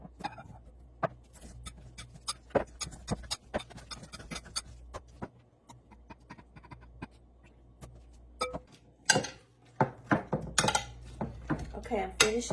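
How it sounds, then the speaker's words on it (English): Strawberries being mashed in a stock pot for homemade strawberry jelly, with repeated soft thunks and scraping against the pot in an uneven rhythm, close by, growing denser and louder toward the end. "I'm going to start mashing up my berries and putting them into a stock pot"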